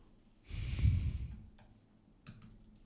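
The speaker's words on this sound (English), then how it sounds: "Why am I yawning so much today?" A person yawns once with a long breathy exhale, close and fairly soft, followed by faint keyboard clicks.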